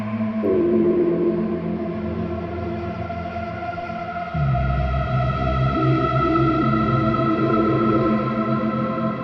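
Dark, sustained DIVA synthesizer tones with eerie wavering overtones and a deep rumbling layer that drops in partway through, loud and ominous with no voices.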